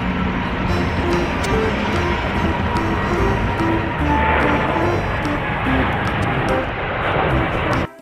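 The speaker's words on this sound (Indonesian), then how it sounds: "Ada pesawat terbang." A continuous loud engine roar of an airplane flying overhead, steady throughout before cutting off abruptly at the end.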